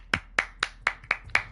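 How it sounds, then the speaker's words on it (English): Six sharp, evenly spaced claps, close and crisp, each a quick bright snap with a short tail, isolated and without talk. "I think it was an applause."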